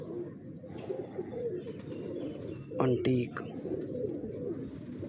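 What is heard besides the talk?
breeder pigeons cooing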